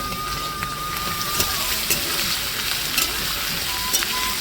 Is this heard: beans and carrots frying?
yes